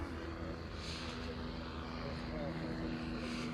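A microlight aircraft passes at a fly-in and classic car show, its propeller engine a steady, moderately distant drone held across the whole stretch, with voices murmuring in the crowd around it.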